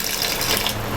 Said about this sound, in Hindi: इसके अंदर अब मैं ये थोड़ा सा पानी डालूँगी